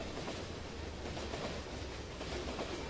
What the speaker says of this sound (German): Und da ist auch schon die Bahn.